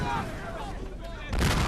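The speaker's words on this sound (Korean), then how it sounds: "그 순간 비행기가 하늘에서 추락하더니 폭발해버립니다" A plane crashes and explodes in a film scene, heard as a loud rumbling roar of blast noise that swells again into a fresh burst near the end.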